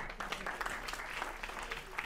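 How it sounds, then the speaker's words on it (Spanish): An audience at a church or lecture gathering gives a short, even round of applause, moderately quiet, with a faint voice mixed in. "Démosle un aplauso"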